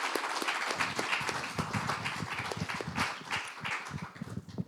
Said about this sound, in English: I think we should have a round of applause for fantastic talk